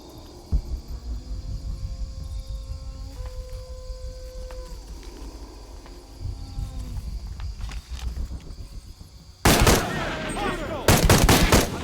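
Gunfire crackles in Shadow of the Tomb Raider: scattered shots and footsteps under distant game voices, then loud dense bursts of automatic fire near the end.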